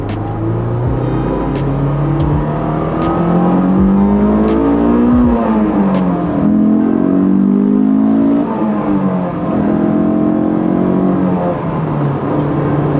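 A Honda S2000 sports car engine revs repeatedly, pitch rising and falling through gears with a deep rumbling exhaust, close and continuous throughout.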